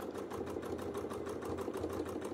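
A sewing machine runs steadily in free-motion stitching around a circle, a fast, even chatter of needle strokes heard close and alone.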